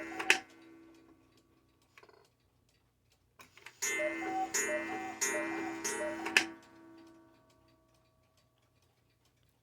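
A vintage 1980s Regula mechanical West German Black Forest cuckoo clock with a 30-hour movement ticks faintly in a quiet room, broken midway by a louder, bright ringing clatter lasting a few seconds. No one speaks.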